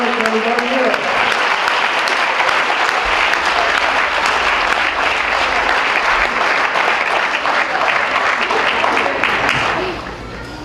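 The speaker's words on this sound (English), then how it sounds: "Give a round of applause for everybody here." Guests at a wedding reception break into loud, sustained applause that fills the room for about ten seconds, with a voice briefly audible at the start and cheering mixed in.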